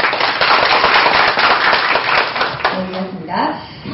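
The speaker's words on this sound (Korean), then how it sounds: "여러분의 축하와 성원의 박수 한번 부탁드리겠습니다" An audience claps at a Korean newspaper's third-anniversary youth media forum: loud, dense applause that tapers off toward the end, with a voice and a short tone near the close.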